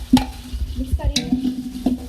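Whole spices such as cumin, black cumin, cinnamon, cardamom and cloves stirred in a pot for beef biryani, a few quick close scraping and clinking strokes over a faint sizzle, with a short tonal ring and no talk.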